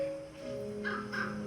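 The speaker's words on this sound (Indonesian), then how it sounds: "Perhatikanlah burung-burung gagak." Crows cawing, two harsh calls close together, clear and fairly near above a steady low background hum.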